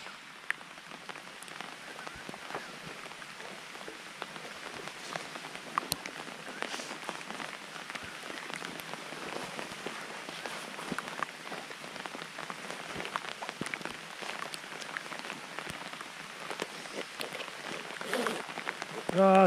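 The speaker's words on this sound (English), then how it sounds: "here comes the rain, viewers." Steady rain falls through a forest on a motorbike camping trip, a dense continuous patter of drops on leaves and gear that builds slightly heavier toward the end, with no talking.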